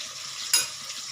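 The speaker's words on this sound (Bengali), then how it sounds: "আলুটা ভাজা হচ্ছে" Potato pieces frying in oil in a pan for a cabbage and rohu fish head dish, a bright steady sizzle with a brief louder burst of crackling midway, close and alone.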